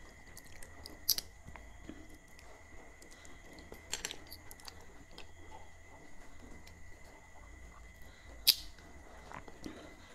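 Someone slowly chewing crunchy macadamia nuts, a few sharp cracks of biting standing out over quiet, moist munching close to the mic, no talking.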